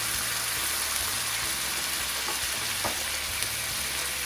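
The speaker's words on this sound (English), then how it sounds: "start making the jus by deglazing the pan with the liquids that we put into the baking sheet earlier" Liquid sizzling steadily in a hot pan as the tri-tip drippings are deglazed for jus, a close, continuous frying hiss with a low hum beneath and a few soft clicks.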